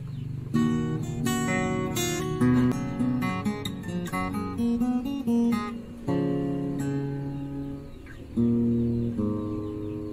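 Thomson TAC-2CN acoustic guitar picked fingerstyle, with plucked notes and ringing chords in a gentle, moderately paced pattern, close and alone.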